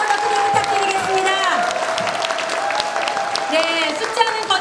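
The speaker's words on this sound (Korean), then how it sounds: "격려의 박수 한번 어떻게 부탁드리겠습니다." Audience applause of encouragement at a Korean public presentation on election vote-count fraud claims, a steady dense clapping from a crowd lasting throughout, fairly loud with some cheering mixed in.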